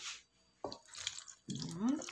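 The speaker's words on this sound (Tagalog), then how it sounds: "Ibubuhos natin." Leftover ingredients and broth are poured over fish wrapped in taro leaves, giving short wet splashes and drips between moments of quiet, with a person speaking over the pouring.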